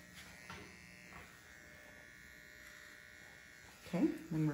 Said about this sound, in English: you can just bring in the comb and the clippers like that and just take that shorter through that area